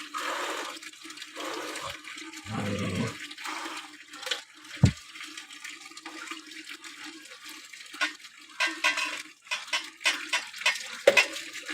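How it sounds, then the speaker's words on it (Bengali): Running tap water splashes during a bath, with uneven sloshes, pours and spatters close by, the flow rising and falling in irregular bursts and no voices. "একদম টাইম কলের জল দিয়ে স্নান চলছে।"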